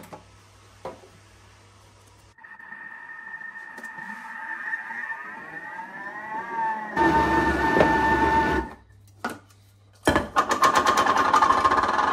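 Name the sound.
blender mixing flour in closed container for sfouf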